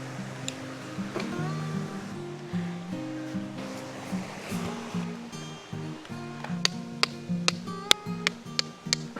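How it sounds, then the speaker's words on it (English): The Nestucca River on the Oregon Coast flows right beside a campsite, giving a steady, close rushing wash of water. Sharp ticking clicks break through in the second half, and no one speaks. "I mean, the river is just right here."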